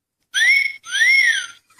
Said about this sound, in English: got the wolf whistle